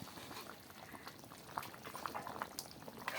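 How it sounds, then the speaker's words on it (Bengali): Raw chicken bubbles in water over a high flame, with a soft, steady simmering crackle and occasional pops, faint and close. "জল দিয়ে আমি এটা ফোটাতে থাকবো দশ মিনিট মতো তো হাই ফ্লেমে এটা ফোটাবো"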